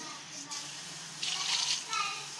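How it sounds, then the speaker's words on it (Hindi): About two to three cups of water are poured into a pot of achar gosht, two short splashing pours close by, with a voice talking in the background. "अब हम इसमें तकरीबन जो है वो 2 से 3 कप जो है वो इसमें पानी डाल देंगे।"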